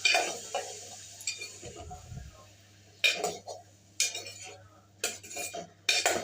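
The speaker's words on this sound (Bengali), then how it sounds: "একটু নেড়ে ছেড়ে দিচ্ছি" A spoon stirs small pieces of potato frying with a little chili and salt in a pan, giving scattered metallic clinks and scrapes in short bursts against a low steady background hum, with no voices.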